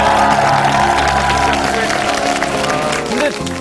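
A TV talk-show studio audience applauding comedians, a dense, loud wash of clapping and crowd noise that runs continuously and thins toward the end, with voices mixed in.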